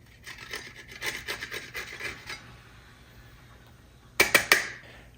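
Black truffle grated over eggs for breakfast, a close soft rasping scrape in quick uneven strokes, then a short pause before three sharper, louder scrapes.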